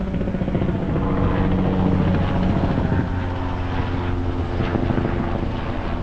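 A helicopter passes overhead at a home where vinyl siding work is underway, its steady rotor and engine drone loud and continuous throughout.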